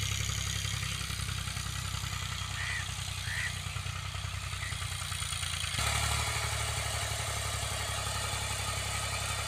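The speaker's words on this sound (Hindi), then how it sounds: "दस काका शेर लै के आ रहा मैं चैंपियन ट्रैक्टर" A Champion tractor engine runs at a steady idle-like drone, continuous and fairly loud, with a slight change in tone partway through.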